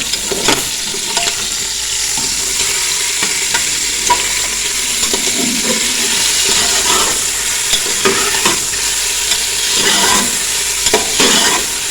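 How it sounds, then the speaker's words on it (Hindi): Chicken frying in two tablespoons of oil for yakhni pulao, a loud continuous sizzle with frequent scraping strokes of a spoon stirring the pieces around the pan, close and without talking. "और अब साथ ही इसमें डाल देंगे चिकन। अब इसको हम करेंगे फ्राई।"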